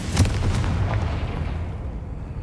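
A Confringo blasting spell explodes in Hogwarts Legacy, a loud low boom with a sharp burst at the start that rumbles and fades over a couple of seconds, with no talk.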